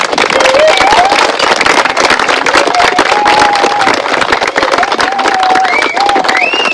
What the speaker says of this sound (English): give each other a round of applause for making one child's dream come true